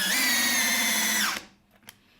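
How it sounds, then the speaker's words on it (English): A Skil flip drill/driver runs in drill mode with a loud, steady high whine for just over a second, then cuts off sharply, leaving a few faint clicks. "But on drill mode, there is no fooling around. This thing works great"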